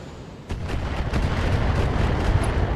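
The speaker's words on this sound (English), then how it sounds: "they sensor locked my spider this time before firing the missiles" Missiles fire in a video game: a run of loud booming blasts and thuds rolls on without a break, dense and close, with no voices over it.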